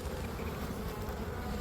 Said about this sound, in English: These are Italian bees.